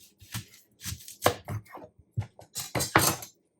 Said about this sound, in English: In order to cut the onions, you need to cut the onion down the line